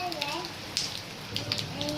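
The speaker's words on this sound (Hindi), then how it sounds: "तेज़ तरीन बारिश।" Heavy rain hisses in a dense, steady roar with gusting wind, while a voice talks over the downpour.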